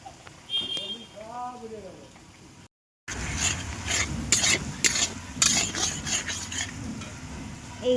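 Garlic paste and spice paste are stirred and scraped around a hot wok, sizzling steadily. A short voice comes first, then a brief silent gap before the loud, continuous stirring resumes.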